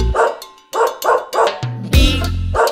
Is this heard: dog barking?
yes